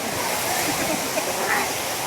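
Ghatarani waterfall near Gariyaband, a steady broadband rush of falling water, loud and unbroken throughout the short stretch.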